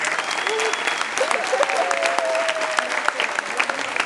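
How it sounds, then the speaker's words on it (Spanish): Steady audience applause at a graduation ceremony, continuous dense clapping for the whole stretch with a few voices calling out above it. "Un aplauso, por favor."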